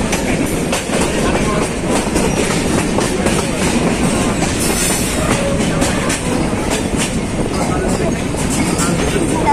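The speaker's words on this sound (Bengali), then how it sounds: "তালমা স্টেশনে চলে এসেছে ট্রেন" A train pulls into Talma station with a steady loud rumble and clatter of wheels on rails, rhythmic clicks running through the din, while voices are heard faintly under the noise.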